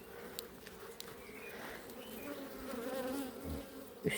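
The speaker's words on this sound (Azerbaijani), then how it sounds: "Erkək arılar da çıxmaq üzrədir" Honeybees hum in a steady low drone at an open backyard hive whose frames are heavy with stored syrup, the buzz close and continuous with a few faint ticks.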